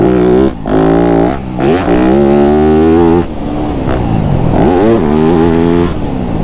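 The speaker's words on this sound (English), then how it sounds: "this bike is just way too loud" Very loud Yamaha YZ250F four-stroke dirt bike engine revving up and down in sharp bursts, climbing and falling in pitch close by, with no talking.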